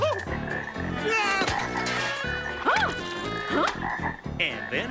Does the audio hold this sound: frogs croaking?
yes